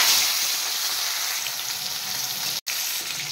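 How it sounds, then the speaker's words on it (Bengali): Fish frying in hot oil with a dried red chilli, giving a loud, dense, steady sizzle close up, with one sudden brief cut-out near the end, no talking. "এবার আমি মাছগুলো ভেজে নেব।"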